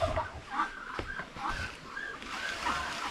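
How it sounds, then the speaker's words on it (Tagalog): Chickens cluck in short, repeated calls nearby in a large poultry pen that also holds turkeys and ducks, scattered over a soft rustling background. "Dito po may manok oh."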